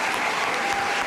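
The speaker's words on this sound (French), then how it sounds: "je vous demande d'applaudir bien fort Mathilde Himer qui est avec nous" Studio audience applauding a guest on a French television talk show, a dense, steady wash of clapping that stays loud and even through the whole brief moment, with no voices over it.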